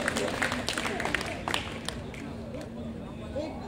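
Audience at a kavi sammelan in Guna claps in a loose burst of applause mixed with crowd murmur, moderately close, while a voice keeps talking over it.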